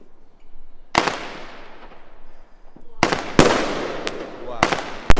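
Frozen Spirit firework from Prestigious Pyrotechnics at a bonfire night display, with a sharp burst followed by a crackling decaying tail, then a rapid cluster of loud bangs and further pops; voices talk over parts of it.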